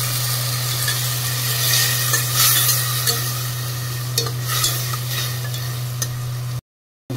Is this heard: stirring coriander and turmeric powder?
yes